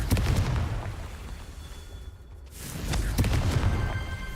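Confringo blasting spells explode in Hogwarts Legacy, with loud, heavy booming bursts at the start, a brief lull, then another burst of roaring blasts.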